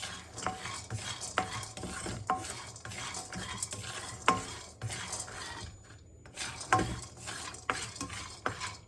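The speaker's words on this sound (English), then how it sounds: "Roast it with your peanut a little bit" Peanuts being dry-roasted in a pan for dosa chutney, with steady stirring and scraping of a spoon against the pan, light clinks of metal and a faint sizzle throughout.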